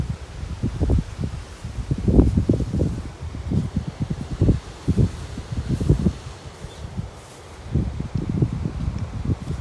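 Strong wind gusts through farm crops in open fields on a cloudy, rainy day, producing a continuous rushing rustle with heavy low buffeting surges that rise and fall throughout, close to the microphone, with no talking.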